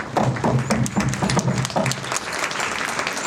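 An audience at a clinical case discussion on surgery applauds steadily for about three seconds, a dense, fairly loud wash of clapping with a low murmur of voices underneath.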